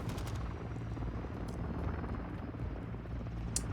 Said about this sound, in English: unfortunately, there's an attack helicopter in here